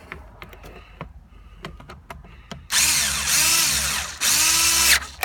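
A power drill driving Phillips screws into the dash column cover of a 2000–2006 first-generation Honda Insight: soft clicks and handling first, then two loud, close whirring bursts of the motor, each rising in pitch, with no talking.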